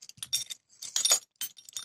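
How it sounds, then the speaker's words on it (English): Metal keys on a key ring with a keychain jangle in several short, bright clinking bursts, close and clear with no talk. "Key ring, keychain, and the keys themselves."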